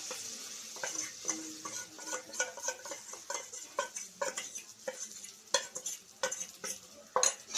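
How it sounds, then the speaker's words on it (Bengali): Rice flour batter poured into a hot, lightly oiled pan, giving a steady sizzle with scraping and stirring clicks throughout, close and moderately loud, no talk. "এবার আমি দিয়ে দিলাম চালের গুঁড়ো গুলে রাখা"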